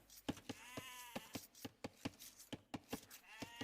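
Sheep bleat repeatedly in a strategy video game, a rapid series of short, clear calls roughly every quarter second, fairly close and standing alone without talk.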